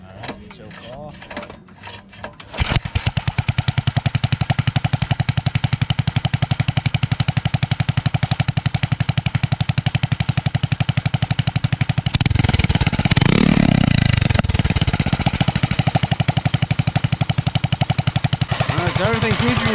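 A 60 mph minibike engine runs steadily after a brief quiet start, a loud rapid buzzing putter with a swelling surge of revs partway through, close by and continuous.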